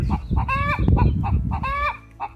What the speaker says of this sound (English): A lot of times chickens like to brag when they lay an egg